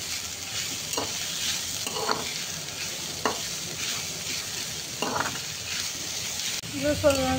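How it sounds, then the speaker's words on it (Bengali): Cucumber pieces sizzle in a pan over a medium flame while a spatula stirs them, giving a steady soft frying hiss broken by intermittent scraping strokes. "শসাটাকে নেড়ে নেবো ভালো করে।"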